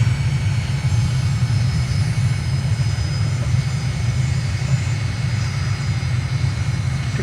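Jet aircraft engine in a flight simulator game, landing and rolling along a runway: a steady, loud low rumble with a constant broadband roar throughout, no distinct touchdown impact standing out.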